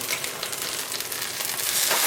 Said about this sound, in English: That's some sizzling in the oil.